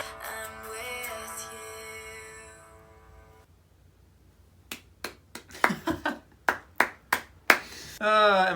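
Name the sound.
hands clapping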